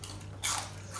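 Crispy deep-fried snakeskin gourami fish bones crunch in a single sharp bite, close up and quiet, over a low steady background hum.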